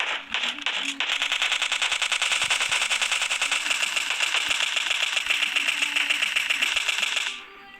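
Rapid automatic gunfire from a shooter video game's zombie mode, a dense sustained burst of loud rattling shots running for about seven seconds before cutting off abruptly.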